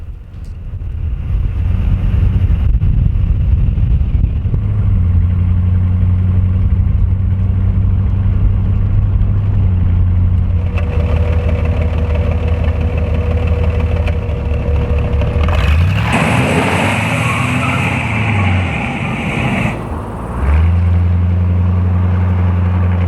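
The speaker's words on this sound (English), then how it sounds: "And now for a test run with that roaring 350 Chevy engine" A 1969 classic car's 350 Chevy V8 runs on a test drive, a loud, steady low engine drone with rising and falling revs and shifts, mixed with wind noise over the microphone.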